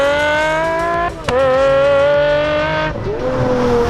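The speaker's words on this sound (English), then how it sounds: "this naturally aspirated V12 engine and the exhaust that they've created" Pagani Zonda 760 LM Roadster with a naturally aspirated V12 sings through its exhaust, a loud, close, rising rev with bright harmonics, a brief gear-change dip and then a second climbing pull.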